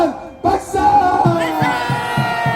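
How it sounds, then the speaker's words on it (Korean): A crowd at a street protest rally outside a police station shouts together in a loud, sustained roar lasting a couple of seconds, with a rhythmic thumping underneath. "함성 3초간"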